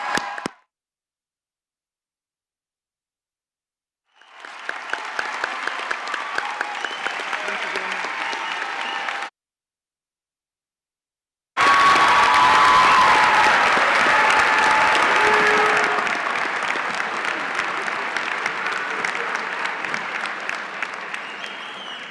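Graduates and guests at a Ball State University spring commencement for the architecture college break into loud, sustained applause in two separate bursts, with a few seconds of silence between them.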